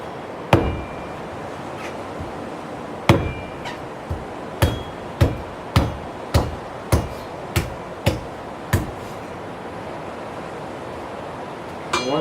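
Machete blows striking a coconut shell in Panama, a sharp woody chop repeating about a dozen times, isolated at first and then in a steady run roughly every half second, close and loud over quiet outdoor background.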